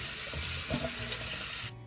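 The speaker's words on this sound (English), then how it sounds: "We have to drain the beans and rinse them" Canned black beans poured out to drain and rinsed under running water in a kitchen sink: a close, continuous splashing rush with light clatter, which cuts off abruptly at the end.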